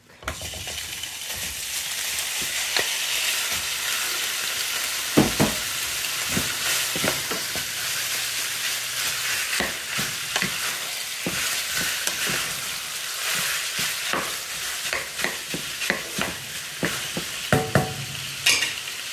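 Pork frying in a pan for adobo, a loud continuous sizzle with repeated clicking scrapes of a utensil stirring and turning the meat, close up and with no talk.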